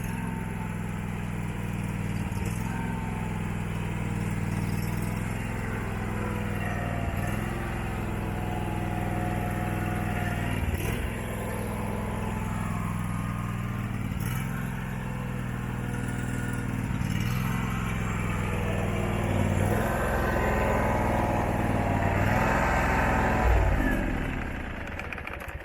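An abandoned Husqvarna engine, freshly revived, runs steadily with an uneven surging rhythm, its pitch and loudness rising and falling every few seconds, close and continuous with no voices.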